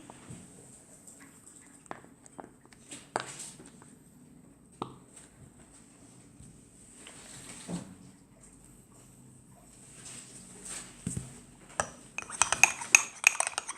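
Toothpaste-laced slime mixed in a container, heard as scattered soft clicks, scrapes and squelchy taps at close range, growing busier and denser near the end.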